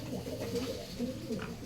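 Pigeons in a garden pigeon loft give soft, repeated low coos, close and continuous, over a faint outdoor background.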